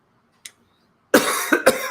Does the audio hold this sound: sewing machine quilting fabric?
no